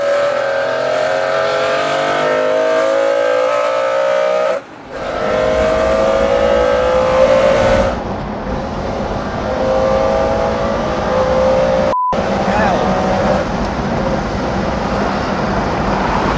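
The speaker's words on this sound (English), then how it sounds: "Let's just take that through the gears again" A supercar engine revs hard and climbs through the gears, each upshift briefly dropping the pitch before it rises again, loud and close with no talking.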